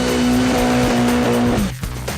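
A car is driven fast through a turn on a race track, its engine holding a loud, steady high whine before dropping sharply in pitch as it slows, with rough tire and road noise underneath.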